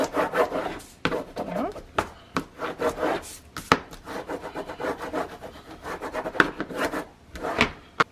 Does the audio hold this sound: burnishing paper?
yes